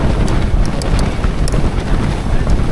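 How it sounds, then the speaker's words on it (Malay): Strong evening wind blows hard in Perlis, Malaysia, during a storm, a loud, steady roar of gusts buffeting the microphone, with brief faint high clicks. "ni pukul pukul 6 setengah angin kuat tau"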